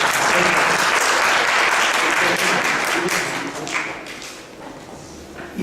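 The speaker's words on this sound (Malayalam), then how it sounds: "ഒന്ന് കൈയടിച്ച്." Loud, dense applause from a retreat congregation fills the space, steady for several seconds before tapering off near the end.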